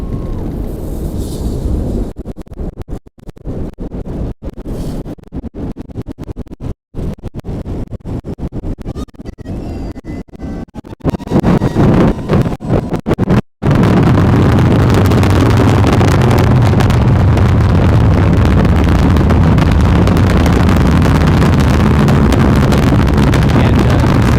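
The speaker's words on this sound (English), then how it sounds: "we'll let you listen to the sounds of the launch" Falcon Heavy rocket launch roar: crackling, buffeting noise with wind-like rush that abruptly becomes a loud, continuous, deep broadband thunder lasting the rest of the stretch.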